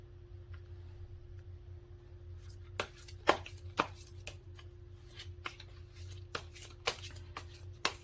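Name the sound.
tarot cards being drawn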